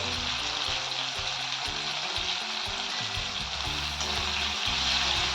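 Bitter gourd (karela) with turmeric, red chilli powder and salt sautéing in a pan, a steady close frying sizzle with occasional soft stirring scrapes, no talk.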